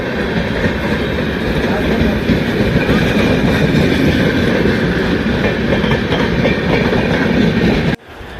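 The Amritsar–Jaynagar Humsafar Special, an Indian express train, rolls past on the rails with a loud, continuous rumble and wheel clatter close by that cuts off abruptly near the end.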